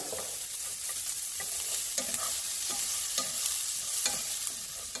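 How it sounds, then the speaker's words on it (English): Onion sautés with browned fideo noodles in a pan over medium heat: a constant nearby sizzle overlaid by regular, rhythmic scraping stirs, with no voices. "So first, I'm going to add in my onion. Saute that for a little bit."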